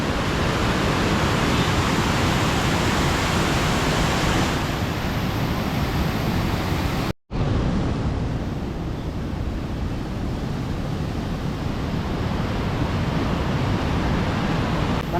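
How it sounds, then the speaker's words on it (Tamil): Heavy volume of water released at Kallanai dam, roaring as a loud, continuous broadband rush nearby, with a brief cut partway through. "உங்களுக்கு அந்த சத்தம் கேட்குதுங்களா?"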